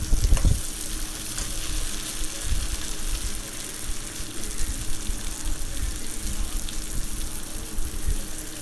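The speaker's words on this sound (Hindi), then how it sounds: "डालने के बाद सिर्फ 4 सेकंड फ्राई करना है इन सभी चीज़ों के साथ" Peas and potatoes fry with spices in a pan, giving a continuous steady sizzle with a brief clatter at the start, moderately loud and with no talk.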